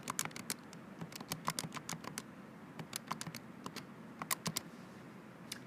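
A calculator expression is keyed in as a quick run of light, close taps, irregular and fairly soft, with no speech.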